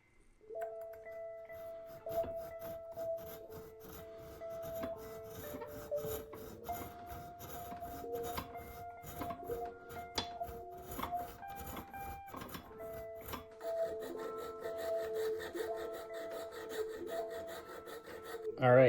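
A file rasps along the nut slots of a boutique electric guitar during a re-necking job, steady scraping strokes with a humming tonal background, close and moderately quiet, mostly alone.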